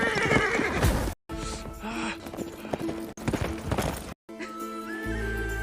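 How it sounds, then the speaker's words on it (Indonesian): A horse whinnies loudly and its hooves clip-clop as it bolts off at speed while a rider tries to mount, with the sound cut into short bursts separated by brief silences. "Azad tiba-tiba berlari sangat kencang ketika Gopin hendak menaikinya"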